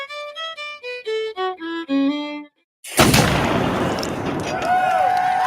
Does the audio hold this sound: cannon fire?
yes